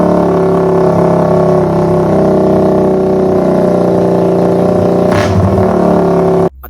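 A motorcycle engine running after being started by its starter, idling steadily and loud with a short rev near the end before it cuts off.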